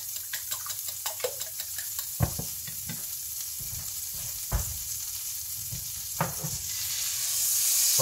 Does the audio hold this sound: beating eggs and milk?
yes